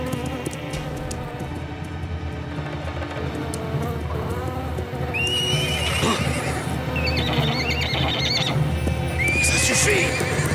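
Horses whinny loudly and repeatedly over steady hoof clopping and shuffling, with a busy, restless herd close by.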